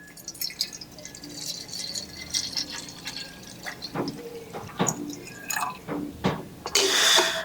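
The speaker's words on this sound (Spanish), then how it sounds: "Y vamos a vertir lo que son las 3 tazas de café. 3 tazas de agua, perdón." Water poured into a coffee maker's reservoir, measured out for three cups, makes splashing and trickling with uneven drips and gurgles that swell into a fuller rush of liquid near the end. No one speaks.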